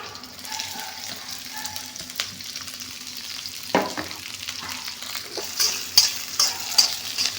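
Onions frying in hot oil with kasuri methi for green chicken masala gravy, a steady close sizzle with repeated scraping stirs of a spoon growing louder toward the end.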